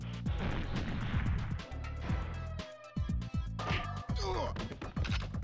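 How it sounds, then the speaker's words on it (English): Repeated sharp blasts and bursts from grenade explosions in the GoldenEye 007 video game, loud and punchy, mixed with rapid gunfire and brief gaps. "Stop throwing nades, you freak!"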